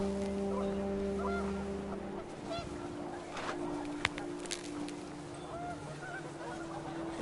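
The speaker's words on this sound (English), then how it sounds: "The wind picked up, and panicked geese appeared and quickly went." Panicked geese honk in a brief flurry over a steady windy drone in the video game What Remains of Edith Finch, with scattered calls under a low hum.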